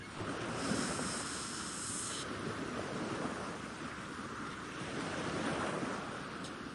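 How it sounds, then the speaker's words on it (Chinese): Ocean waves in a video game wash in a steady, continuous surf roar with soft swells, heard alone without any voices. "海浪声"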